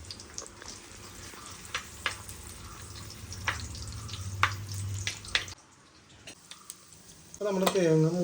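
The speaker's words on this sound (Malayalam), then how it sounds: "അതൊന്ന് വറുത്തെടുക്കണേ." Coconut pieces fry in hot oil in a pan, a low sizzle under intermittent metal spoon clinks and scrapes, close; the sizzle cuts off partway, followed by brief quiet and a louder burst at the end.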